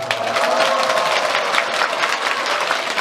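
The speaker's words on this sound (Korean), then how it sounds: "박수 한번 드리도록 하겠습니다" A large concert audience in Busan applauds steadily, a dense and continuous wash of clapping with faint crowd voices mixed in.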